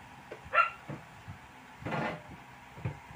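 A dog gives a few short, separate barks at moderate distance in a quiet outdoor setting, with faint scrapes and knocks between them.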